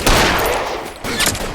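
Gunfire from the video game L.A. Noire rings out as a dense, loud volley of shots that dips briefly before a fresh burst near the end.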